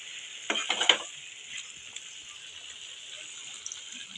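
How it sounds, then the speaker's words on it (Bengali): Water poured into a pan of sautéed dried fish curry, a brief burst of splashing and hissing at the start that settles into a quiet, steady simmer, with no voices. "আমি এবার পরিমাণ মতন জল দিয়ে দিচ্ছি।"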